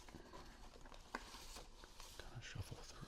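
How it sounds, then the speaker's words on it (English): Soft, close papery rustling and light shuffling of ticket stubs in a shoebox, with scattered small taps and crinkles, quiet and continuous. "And I will actually rustle these up a little"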